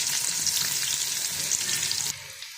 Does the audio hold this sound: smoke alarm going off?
no